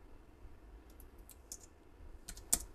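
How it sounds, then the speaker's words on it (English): Light, quiet keystrokes tap on a computer keyboard, a sparse scatter of faint clicks ending in one sharper tap, with no talk. "So I'll just go ahead and type this now."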